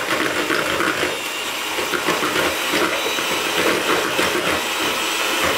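Electric whisk beats macaron mixture with icing sugar, a loud, steady whirring drone that runs unbroken from start to finish, close up and with no voices.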